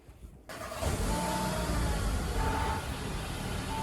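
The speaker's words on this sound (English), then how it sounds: "this is what the car sounds like before the downpipe" A 2020 Audi A3 running on its stock downpipe, warm rather than cold-started, sets in abruptly after a half-second of quiet and holds a steady, loud, close exhaust drone with a faint whine over it.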